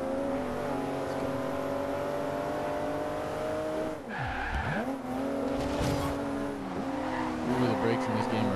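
A car in Forza Horizon 2 brakes hard and its tires skid with a loud squeal mid-drive, the engine note dipping then picking back up under steady racing noise.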